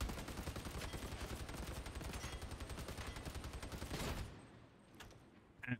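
An Ogryn's light heavy stubber in Warhammer 40K: Darktide fires a rapid, steady automatic stream for about four seconds, loud and close, then stops and leaves a quieter tail with a couple of faint clanks.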